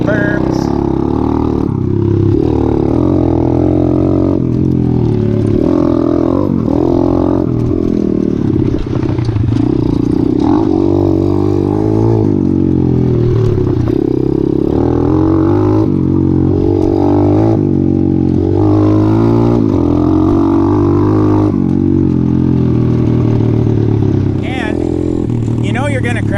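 Apollo RFZ 125 mini dirt bike ridden around a small dirt track with tiny berms. The engine whines and revs loudly and close, rising and falling continuously, with a voice talking over it.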